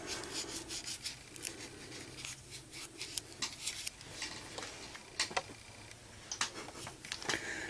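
A brush scrubs fingernails along the side folds and edges before gel: quiet, close, quick scratchy rubbing strokes in uneven bursts, with no talk.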